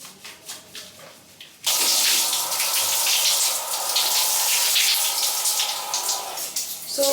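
Shower water starts abruptly after a second of quieter dripping and splashing, then runs as a loud, steady hiss while hair is rinsed, close by with no talking.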